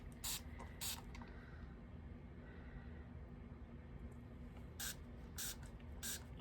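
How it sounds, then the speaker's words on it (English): Quick spritzes from a spray bottle of alcohol hit freshly poured resin, short hissing bursts in two pairs separated by a quiet pause, close against a steady low room hum. "Just gonna give it a good spritz at the top there."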